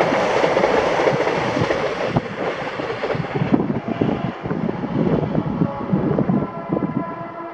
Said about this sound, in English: this was 1H51, the 1417 ScotRail service to Inverness from Stirling.